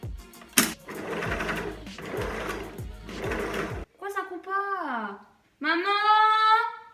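A home sewing machine stitches a top in a close, rhythmic mechanical chatter for several seconds, then stops, and voices talk briefly afterward.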